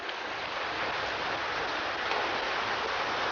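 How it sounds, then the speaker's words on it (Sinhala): Light rain falls steadily outside a home kitchen during cooking, a continuous soft hiss of drops with no distinct individual hits and no voices. "අපිට නම් දැන් පොඩි වැස්සක් යනවා."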